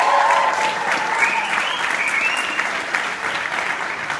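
A live audience applauds for the band in a fairly large room, a steady wash of clapping that fades slightly toward the end, heard without talk.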